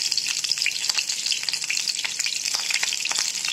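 Capsicum sautés in two ladles of hot oil for a capsicum egg omelette, producing a continuous bright, crackling sizzle up close, with soft stirring scrapes and no voices.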